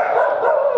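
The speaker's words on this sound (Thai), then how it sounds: "เขา หอนเรียกว่าต้อนรับคนที่มาที่นี่นะครับ" Dogs at a dog care center in Nakhon Pathom, Thailand, let out a loud, close, sustained howl, a brief steady wail with no other sound.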